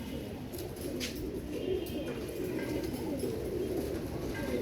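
A Royal Teddy pigeon, a female, coos softly at close range over steady low background noise, with a few faint chirps rising above it and no talking.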